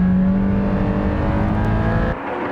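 Nissan Z race cars, including an Anniversary Edition Z, pushed hard on a circuit by pro drivers, a loud close engine drone and roar with shifting pitch that drops off abruptly near the end.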